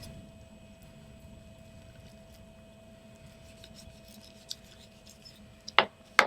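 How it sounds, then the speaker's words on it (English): Cutting through the tendon of a harvested chicken on an off-grid homestead: after a quiet stretch, a few short, sharp snips sound close by near the end. "there's a tendon that you can cut through"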